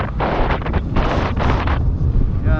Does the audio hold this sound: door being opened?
no